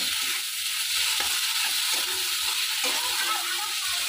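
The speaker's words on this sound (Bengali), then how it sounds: "তো লঙ্কার গুঁড়োটা দিয়েও বেশ কিছুক্ষণ নাড়াচাড়া করে নেব।" A fish and potato curry masala with chili powder is stirred in a pan, making a soft continuous frying hiss with faint scraping strokes, fairly quiet and even throughout.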